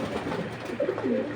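Racing pigeons of various local and foreign breeds at a seller's loft, cooing in soft, low, throaty murmurs that rise and fall in short phrases at close range, with no talk over them.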